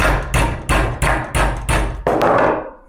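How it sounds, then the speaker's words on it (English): Six sharp, evenly spaced mallet blows ring out close by as a small hammer shapes a bent metal piece clamped in a bench vise, the last strike followed by a longer metallic decay. "take my small mallet and kind of shape it a little bit"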